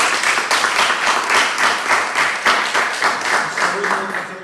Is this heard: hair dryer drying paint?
no